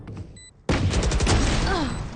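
A sniper rifle in the Valorant video game fires one sudden loud crack that rings out over game sounds after a quieter opening.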